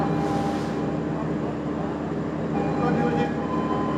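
The Sembrani train at Surabaya Pasar Turi station, a continuous loud rail rumble with a steady mechanical hum and a faint high tone, filling the whole moment without letting up.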